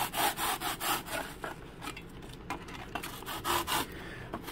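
A block of foam for RC boat flotation is cut with rhythmic back-and-forth sawing strokes, loud rasping rubs in steady pulses, pausing briefly in the middle before resuming.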